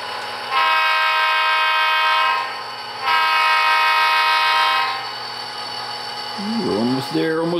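Athearn SD40-2 model diesel locomotive throttling up on a layout, a steady engine drone under two long, loud horn blasts, with a brief voice near the end.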